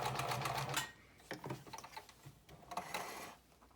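Home sewing machine stitching a short run in reverse at the end of a centered zipper seam, a quick rapid burst of needle clatter followed by quieter intermittent mechanical ticks and clicks, close and alone.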